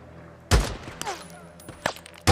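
Gunfire in the zombie-survival video game Days Gone: a loud close shot followed by a few sharper cracks at irregular intervals over a steady low background hum, with no talking.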